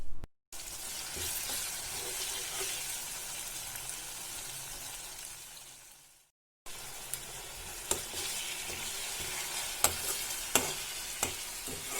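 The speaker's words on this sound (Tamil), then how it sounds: "கார்லிக்கும் தக்காளியும் நல்லா எண்ணெயில் வதங்கிட்டுருக்கு" Garlic and tomato sauté in oil in a pan over a medium flame, a steady close sizzle with faint stirring clicks, broken by a brief pause near the middle.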